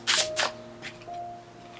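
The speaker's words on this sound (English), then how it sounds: "So let's shuffle your chakra cards" Chakra tarot cards are shuffled in two quick riffling bursts at close range, followed by softer card rustles over a faint steady hum.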